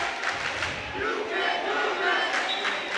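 A high school basketball crowd in the Howe Bulldogs versus Bells Panthers game roars and shouts in protest after a foul is called, a sustained loud crowd clamor with scattered yells across the whole stretch.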